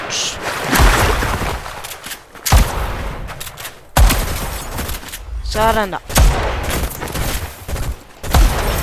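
Gunfire in the Fortnite video game: several bursts of shots recur through the clip, loud and close, alternating with someone talking over them.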